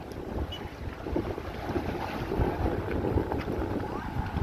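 Strong cyclone wind batters the shore in Jaffna while sea waves surge and break, a dense, steady roar of gusts and surf with heavy wind buffeting on the microphone throughout.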